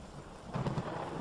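Storm ambience in a dark rain shower, a steady wash of heavy rain with a low rumble of thunder swelling partway through, fairly faint and with no voices.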